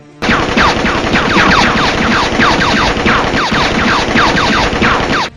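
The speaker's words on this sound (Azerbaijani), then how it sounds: "Qeyd edək ki, Fazil Mustafa ağır çaplı deşka silahından atəş açılıb" A heavy-calibre DShK machine gun fires a loud, sustained rapid burst of shots for about five seconds in an attack on a house. The rhythmic cracks come in dense succession with no talk.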